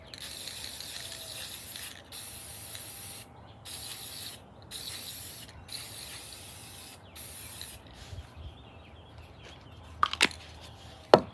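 Paint sprayed onto metal in a series of short hissing bursts with brief pauses between them, close and moderately loud, followed by a few faint clicks and knocks at the end.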